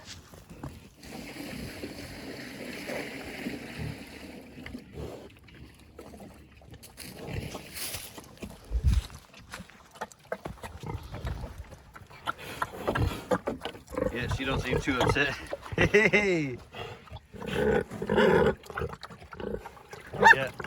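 A pet pig being fed deer meat outdoors gives grunts and snuffling eating noises close by, mixed with wind and other handling noise while someone talks over it.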